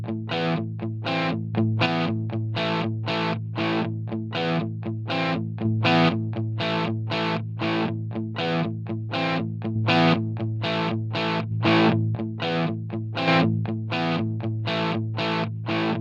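Electric guitar played through Line 6 Helix distortion patches, steady rhythmic chugging chords in a continuous driven tone, loud and close with no talking.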